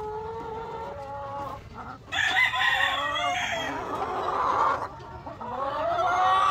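Laying hens in a farm flock clucking close by, a run of drawn-out rising and falling calls repeated several times over a low background hum.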